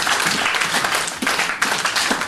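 A church congregation breaks into brief, lively applause for the Lord, a dense wash of many hands clapping at once, close and loud for a couple of seconds.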